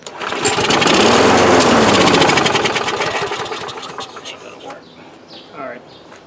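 A 2005 Murray Quantum 6.5 lawn mower engine fires up and runs rough for a few seconds, loud and close, then sputters and dies away, leaving a quiet stretch with some faint handling noises.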